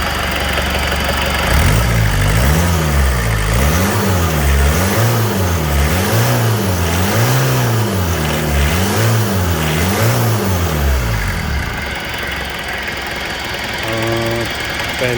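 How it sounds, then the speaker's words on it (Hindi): A 1993 Fiat Padmini with a swapped Toyota D-turbo diesel engine revs loud and close in a steady rhythmic rise and fall of pitch, then drops back to a lower idle near the end. "और साथ में ये इंजन है, इंजन की वाइब्रेशंस बहुत कम है और काफ़ी अच्छे तरीके से हाई आरपीएम पे काम करता है।"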